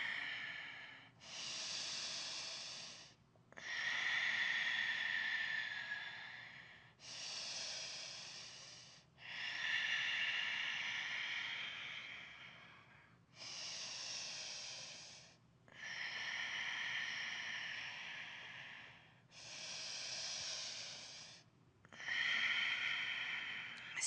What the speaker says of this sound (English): Maybe that's Ujjayi breath.